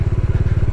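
A motorcycle rides off-road over rough, roadless high-altitude terrain near Pangong Lake. Its engine thumps in a fast, even pulsing rhythm, loud and close, with no voices.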